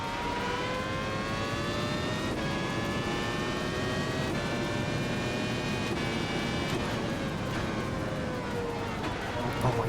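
Open-wheel race car engines from the F1 1996 game at Hockenheimring whine steadily throughout, pitch climbing through the gears with brief dips at each shift, loud and continuous with a constant gearbox hum and no clear talk.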